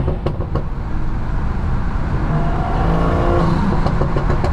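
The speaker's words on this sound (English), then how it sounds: "The dark tonality that comes out of the exhaust." A stage 2 BMW M340i with a B58 engine roars loud and close, its exhaust droning and building in revs with a dark, rumbling tone and a few sharp crackling pops near the start.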